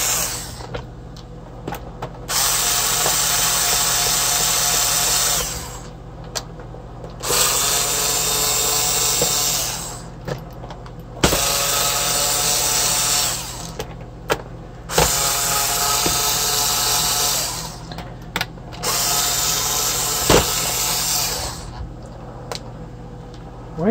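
A power screwdriver fitted with a star bit whirs in repeated bursts of a few seconds each while backing screws out of an iRobot Roomba, loud and close, with brief quiet gaps and clicks between runs.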